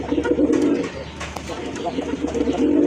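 Running pigeons of the Madrasi golla type coo in low, throaty, repeated calls at close range, with a faint murmur of background activity.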